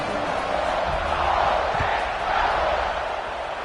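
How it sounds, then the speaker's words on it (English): Stadium crowd noise from the NCAA 26 football video game, a broad steady roar of fans swelling slightly as the kickoff approaches, loud and continuous without a clear voice over it. "this crowd now ready to get behind them"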